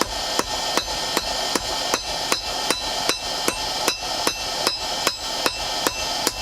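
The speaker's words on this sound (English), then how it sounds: "Forged on a railway line." Steady hammer blows on steel as a knife is forged on a length of railway line used as an anvil, outdoors on a tree stump; sharp metallic strikes land at an even rhythm, about two per second, close and loud with no talk.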